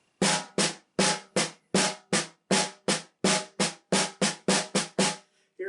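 Snare drum played as a long roll by a young percussionist, heard as paired strokes in an uneven rhythm. The first stroke of each pair is accented and the second is weaker, sounding close and clear with no talk.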